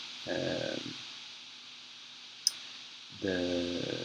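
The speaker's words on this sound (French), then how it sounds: "Je vais cliquer sur la touche D" A single sharp click of a computer keyboard key sounds once between two stretches of faint, quiet background noise.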